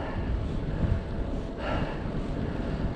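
Heavy wind roars over the microphone while riding a Cube Hybrid e-bike on the road from Reraig to Plockton, a dense continuous buffeting rumble with no talk.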